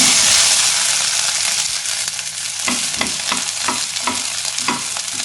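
Two onions frying in a pan with curry leaves for Chettinad kara chutney, a loud, steady, close sizzle with a regular rhythm of stirring scrapes running through the second half.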